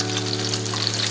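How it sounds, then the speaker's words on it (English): Tofu fries in a pan with a steady, close, unbroken sizzle and hiss, over a low hum and with no talking, in a short snippet. "I'm pretty sure everybody knows how to fry tofu. Basically, it's just frying it."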